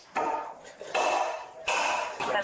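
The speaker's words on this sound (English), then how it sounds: "They're forcing the door open." Firefighters forcing a door open at a fire scene: three loud metallic strikes and scraping bursts in succession, each ringing briefly before fading.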